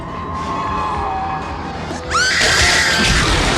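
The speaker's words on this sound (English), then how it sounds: "great timing with this scream sound effect" A shrill scream sound effect in a low-budget early-2000s zombie short film cuts in sharply partway through and holds loud over a noisy background tone.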